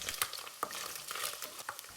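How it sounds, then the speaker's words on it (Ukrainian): Cubes of smoked pork belly frying in hot oil and being stirred until crisp, a close, soft sizzle with scraping and stirring clicks throughout, no voices. "Вкидаємо кубики свинячої грудинки, ліпше, щоб вона була копчена, і обсмажуємо, перемішуючи до шкварок."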